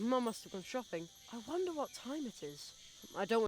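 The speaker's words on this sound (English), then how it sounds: "I think I can hear a cricket chirping in the barrel." A cricket chirps steadily inside a barrel in the video game The Night of the Rabbit, a thin high trill running under a character's spoken lines.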